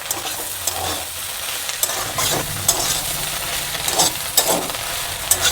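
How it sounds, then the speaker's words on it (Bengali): Beans and potato being stirred and fried in a pan, a close continuous sizzle with spatula scrapes every second or so, no voices. "এটাকে ভালো করে আমি মিশিয়ে নেব"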